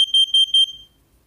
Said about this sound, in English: Press to test. This is only a test. The alarm will sound.